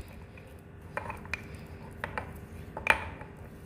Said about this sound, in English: Then you stir it all up.